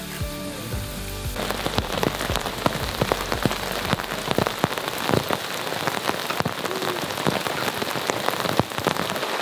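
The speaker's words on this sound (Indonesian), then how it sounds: "habis makan ternyata hujan guys dan hujannya lumayan gede ya nih suaranya" Heavy rain pours down steadily at a campsite, a dense continuous hiss of drops drumming on a hard surface, loud and close.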